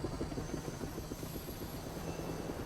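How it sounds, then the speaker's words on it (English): A helicopter drones steadily overhead, its rotor chop forming a continuous low thumping rhythm with a faint high whine, moderately distant. "Oh, there's so it's a helicopter, it's not a plane."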